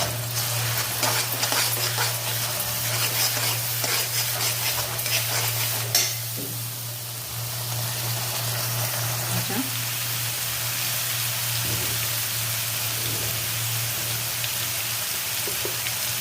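Onion and ground masala paste sautéing in a pan, a steady close sizzle and frying hiss with occasional stirring scrapes, under a constant low hum.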